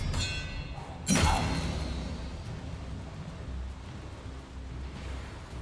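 A spell cast in the Hogwarts Legacy video game: a single sharp whooshing burst with a thud near the start, followed by a steady rumbling game ambience with no talk.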